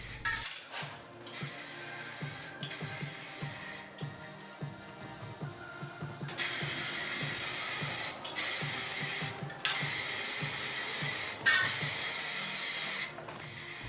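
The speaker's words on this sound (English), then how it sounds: "I end up spraying 2 coats of primer on this piece." Bursts of aerosol primer spray hiss in several long passes over a dresser, each a steady loud rush lasting a few seconds, separated by brief pauses and faint handling clicks.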